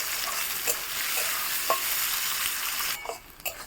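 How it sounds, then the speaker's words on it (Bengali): Chopped onions frying in goat fat while being stirred, a steady sizzle broken by scraping stirs of a spatula against the pan, quieter in the last moments. "লাল লাল করে ভেজে নেব।"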